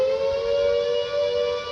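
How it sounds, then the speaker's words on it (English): Flood warning sirens sound near riverbanks as Storm Ciara hits the UK, holding one steady, loud sustained tone alone, with no voices. "Sirens sounded to alert those living near the riverbanks of the impending floods."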